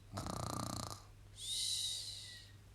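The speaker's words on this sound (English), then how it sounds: "And the Gruffalo snored and snored and snored." A single drawn-out, raspy snore followed by a softer, airy exhale whistle, close and clear against quiet.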